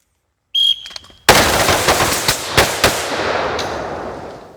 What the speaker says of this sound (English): All right, depress muzzle, double tap.